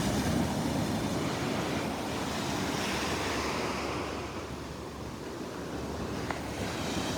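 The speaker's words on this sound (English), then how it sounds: "Got some waves breaking over the sandbar here." Surf breaking over a sandbar at Delnor-Wiggins beach on an outgoing tide, a continuous rushing roar of waves with wind buffeting the microphone, swelling and easing slightly but never pausing.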